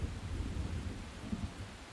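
Torrential rain pours steadily in Persona 5 Royal, a dense hiss broken by low rumbles of thunder that swell and fade, heard alone with no voices.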